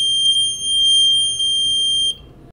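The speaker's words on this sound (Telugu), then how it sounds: "ఇక్కడ ఫైర్ ఆన్ చేస్తే మీరు చూడండి బజర్ సౌండ్ అనేది వస్తుంది" A buzzer on a school science project's IR flame sensor, set off by a lighter flame, sounds as a loud, continuous high-pitched electronic tone for about two seconds before cutting off.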